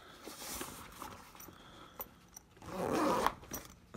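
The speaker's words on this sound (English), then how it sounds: "You take this and you zip this." Someone zips the side pocket on an Ozark Trail camping utility: scattered faint fabric rustles and taps, then one close, rasping zipper pull lasting about a second, followed by light handling noises.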